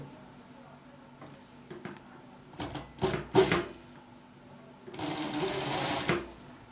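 Sewing machine stitching fabric, a zip being sewn on with a chain-stitch attachment: short bursts of close, fast mechanical whirring, with one longer steady run near the end.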